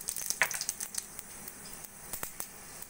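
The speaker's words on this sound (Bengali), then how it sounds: "তেলটাও গরম হয়ে গেছে। দিয়ে দেবো অল্প করে পাঁচফোড়ন।" Panch phoron spices hit hot mustard oil in a pan for mango pickle, giving a soft, steady hiss with tiny crackles and pops, quiet and close, with no voices.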